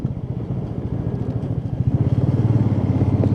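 A motorcycle in Ladakh runs with a steady, rapid engine pulse that grows louder and more forceful toward the end, close up with no talking.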